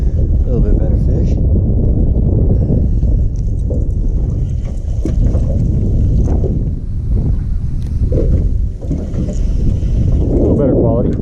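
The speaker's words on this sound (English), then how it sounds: "This wind is brutal out here." Strong wind blows across a lake while fishing for bass from a boat, roaring and buffeting the microphone in a loud, continuous low rumble that stays at full level throughout.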